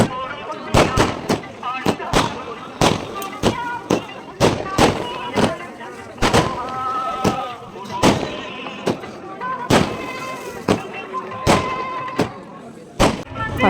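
Firecrackers set off at a village celebration, a long irregular string of sharp, loud bangs and cracks in quick succession, some overlapping, with crowd noise and voices beneath.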